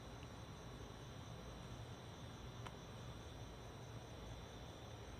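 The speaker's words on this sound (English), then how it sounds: "Like right now I'm hearing some crickets" Crickets chirp steadily at night in trees, a faint, continuous high trill layered over a constant low background hum with no voices.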